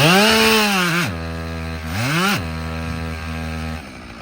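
A two-stroke chainsaw at a Paul Bunyan show revs hard in repeated bursts, its loud buzzing pitch climbing and falling between throttle blips and idle, close by with no talking.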